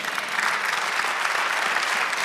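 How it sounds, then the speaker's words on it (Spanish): A church congregation claps for the Lord during a Spanish-language sermon, steady dense applause filling the space evenly from start to finish with no pauses. "Denle un aplauso al Señor"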